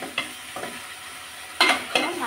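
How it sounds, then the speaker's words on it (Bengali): Fish pieces stirred and fried in spice masala, a Bengali-style dish: a close sizzle under a few sharp scraping spatula strokes, two near the start and a louder pair later, with no voices. "মাছগুলো একদম সুন্দর করে মশলার সাথে কষিয়ে নেব।"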